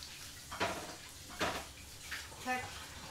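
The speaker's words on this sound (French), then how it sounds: "Bon, je vais rincer les mains, j'arrive." Hands rinsed under a running kitchen tap while cooking spaghetti and meatballs, three short close splashing bursts of water, faint and brief, with low background noise between them.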